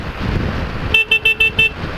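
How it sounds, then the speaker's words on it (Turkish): Five short, nasal honks from a car horn in quick succession, loud and close, following a stretch of low road rumble. "Bu arada bizim korna da gümledi."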